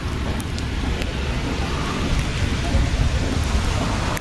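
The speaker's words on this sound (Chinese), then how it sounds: "中极海上倾盆的大雨" Torrential rain pours down during a violent storm at Zhongji Sea near Lijiang, Yunnan, beside a campsite: a dense, steady, loud roar of rainfall that holds constant throughout with no voices.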